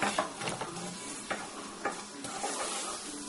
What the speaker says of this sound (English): you just have to stir until the butter melts